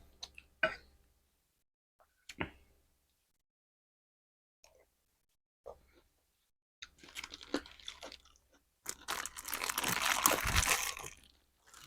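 Crunchy chewing of duck cartilage with duck larb close to the mic, a few isolated bites at first, then a dense burst of loud crackling crunches toward the end.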